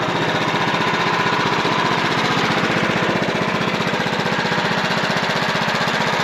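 A small engine on a portable sawmill drones loud and steady while the blade cuts through a log into a one-inch board, with a constant pulsing buzz close by throughout.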